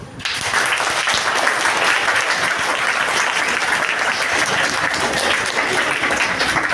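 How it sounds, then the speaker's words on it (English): Students at a women's pre-university college give a big round of applause after a talk, loud sustained clapping from a large crowd, steady and full throughout. "give me a big round of applause"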